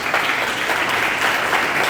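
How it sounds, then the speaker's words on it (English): Steady applause from an audience at a fintech leaders event in Miami, a dense even wash of clapping that holds at the same level throughout, with no voices standing out. "Give them an applause."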